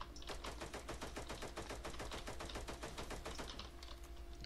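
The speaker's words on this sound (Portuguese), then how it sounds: "Quem que me atirou?" Rapid automatic gunfire in the battle royale game Cyber Hunter, a dense, steady burst of closely spaced shots rattling for several seconds at high intensity, tapering slightly at the end.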